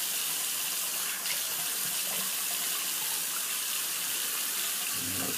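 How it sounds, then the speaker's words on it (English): Hot water runs from a tap into a sink to wet the face before a shave, a steady close splashing hiss that continues unbroken, with a faint clunk near the end. "Just going to wet my face here a little bit with some hot water."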